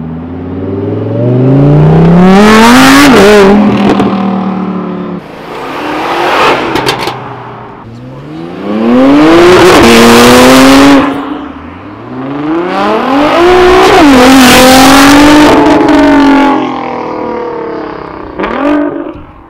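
A Nissan GT-R engine revs hard at a 2017 car show outside CSF Radiators, with four loud, close bursts rising and falling in pitch and a quieter rev at the end.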